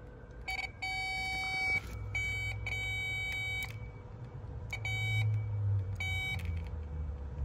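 A multimeter beeps continuity checks on glow plug wiring and module pins of a Duramax LLY, with several clear tonal beeps in separate bursts over a low steady hum, no talk.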